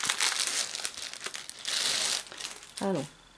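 Crinkly plastic packaging of a newly bought shop item being opened up close, with loud crumpling and rustling bursts and a tearing rip, followed by a brief voice at the end.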